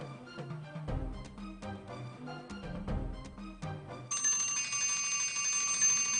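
Quiz show time-up bell at a school quiz competition, a sustained ringing bell sounding loudly after a stretch of background music.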